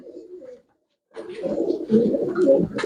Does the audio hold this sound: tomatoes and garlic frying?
no